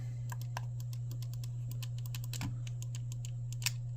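Buttons on a GameSir T4 Kaleid controller clicking with crisp mechanical taps in quick irregular bursts, close and fairly faint over a low steady hum.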